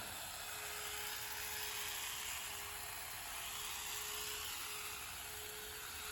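An electric hedge trimmer cutting overgrown hedges, a steady high buzzing whine running continuously at moderate distance with no pauses.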